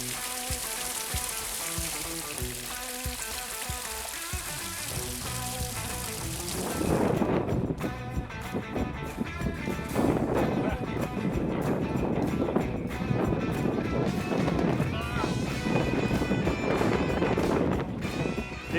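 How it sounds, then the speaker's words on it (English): Strong, steady wind roars across a cold, foggy summit of the Bluff in Alpine National Park. It starts as a dense rushing wash, then swells into louder gusting buffets that continue to the end, with no one talking. "it's very foggy and it's very cold and very windy"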